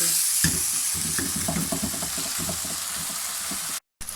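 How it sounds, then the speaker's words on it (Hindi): Chow mein sizzles and crackles steadily as it is stir-fried on high heat in a restaurant-style Chinese dish, with spatula scrapes and tosses punctuating the continuous frying hiss up close. "तेज़ आंच पर इसको मैंने बनाया, बिल्कुल भी मीडियम या स्लो नहीं किया, तेज़ आंच पर इसको मैंने भूना है"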